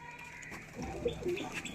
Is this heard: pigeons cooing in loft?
yes